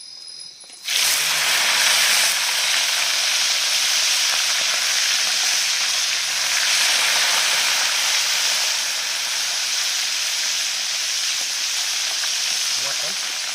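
Jengkol drops into hot oil in a pan outdoors in a rainy forest camp, bursting into a loud, steady sizzle that holds on for many seconds.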